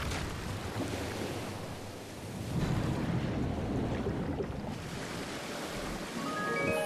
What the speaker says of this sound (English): Flushing all that water out.